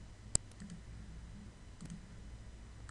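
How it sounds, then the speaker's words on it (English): A computer mouse gives one sharp, close click followed by a few much fainter clicks in a quiet room with no speech. "You would just simply double click and change it."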